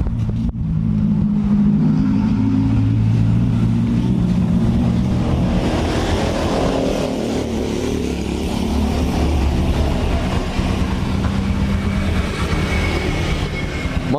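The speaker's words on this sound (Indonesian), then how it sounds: "Motor menyala, mesin halus ya." A Honda Supra X 125 motorcycle engine runs after an engine repair, a loud, steady, rumbling drone that holds for around fourteen seconds with no talk over it.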